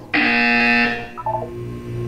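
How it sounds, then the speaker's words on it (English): A flat, harsh electronic buzzer from the video game Portal 2 sounds once, loud and steady for nearly a second, then cuts off and leaves quieter game tones behind. "When you hear the buzzer, look down at the floor."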